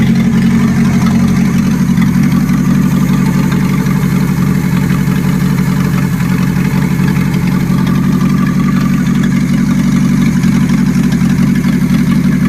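A Renault 18 with a 2.0 petrol engine runs at a steady idle, giving a loud, even, continuous hum that carries through without a break and with no voices.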